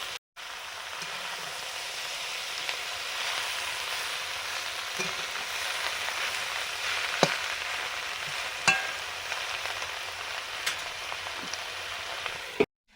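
Leafy greens (shak) sizzle and fry in a pan, a steady close crackling hiss lasting the whole stretch with occasional sharp clicks and pops, no talking.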